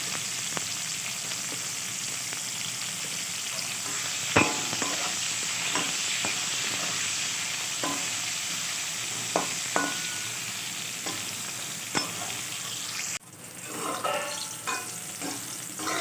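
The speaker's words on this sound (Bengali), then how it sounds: "করলাগুলো ভেজে নেব খুব বেশি ভাজবো না" Sliced bitter gourd sizzles steadily in hot oil with a pinch of turmeric in a pan, a continuous broadband fry punctuated by scattered spoon scrapes and stirring clicks, with a louder burst of crackling near the end.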